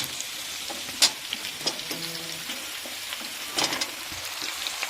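Beetroot, carrot and beans fry in a pan with a soft, continuous sizzle, punctuated by a few sharp clinks and stirring scrapes as the vegetables are moved around.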